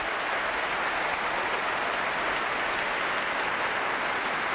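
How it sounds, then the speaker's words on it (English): An audience at a debate claps loudly and steadily throughout, a dense and continuous wash of applause with no voices heard. "So a big round of applause for our debaters."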